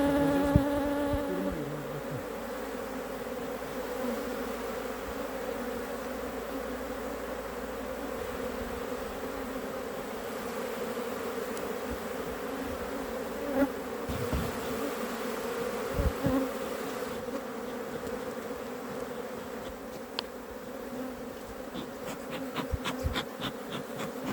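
A dense, steady buzz from a honeybee swarm around a two-storey hive during a strong nectar flow, continuous and close throughout with a few faint knocks and clicks.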